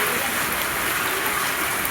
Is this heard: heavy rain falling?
yes